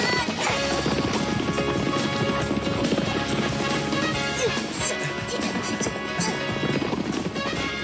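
Horse hooves clip-clop in a fast galloping rhythm during an anime horse race, loud and continuous under a busy music and effects track, with a whinny-like cry mixed in.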